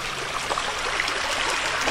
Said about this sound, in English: this is where a little waterfall is coming out of.